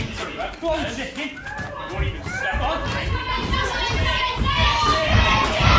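Wrestling crowd chanting "chicken" at Ace Jordan during a match against Keith the Destroyer, a dense roar of many voices with shouts and laughter that builds steadily and stays loud throughout.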